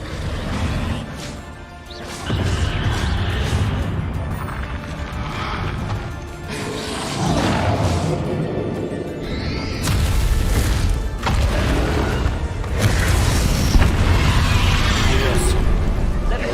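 Bombarda explosion spells in Hogwarts Legacy combat, loud booming blasts and crashing impacts repeating through a dense battle mix, with a voice calling out spell names over the action.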